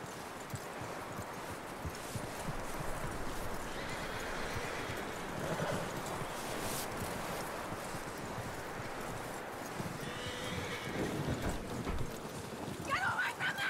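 Horse hooves in the video game Red Dead Redemption 2 clop steadily on the ground amid a dense ambient bed of outdoor noise, with a brief whinny and faint voices of characters talking near the end.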